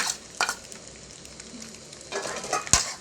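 Prepared ingredients for pork instant noodles are stir-fried in a pan, a soft sizzle running steadily with brief bursts of scraping and clatter near the end, no talking.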